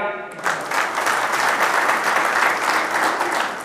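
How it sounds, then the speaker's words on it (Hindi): Audience applause at a celebration gathering, a dense round of clapping from a crowd starting just after a brief voice and continuing steadily. "एक बार भाभी जी के लिए तालियां"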